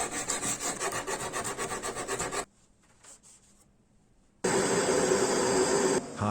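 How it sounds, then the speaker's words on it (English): Fine sanding of a knife blade made from an old saw blade: a steady rhythmic rasping rub for about two and a half seconds, a near-silent pause, then a louder continuous scrape to the end. "Fine sanding."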